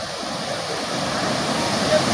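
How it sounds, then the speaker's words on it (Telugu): A mountain waterfall in the forested hill country of Odisha pours in a steady, broad roar of rushing water, loud and continuous throughout. "చూడండి, ఇది పర్వతాలలో నుంచి వస్తున్నటువంటి వాటర్ ఫాల్స్."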